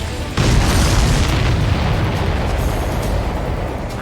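A heavy explosion from the Ace Combat 7 video game, with tankers destroyed along a pipeline, hitting suddenly and loudly, then a sustained deep rumbling roar that slowly fades.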